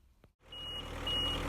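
On a construction site, a piece of plant's audible movement alarm sounds two clear, evenly spaced reversing beeps over a rising engine rumble, after a short knock at the start.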